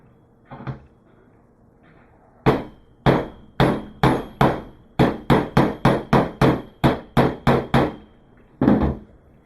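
Heavy hammer tapping a part into a paintball marker during installation of a TechT Cyclone Vortex mod: an isolated first tap, then a steady run of about a dozen sharp, close metallic blows, and one final strike after a pause.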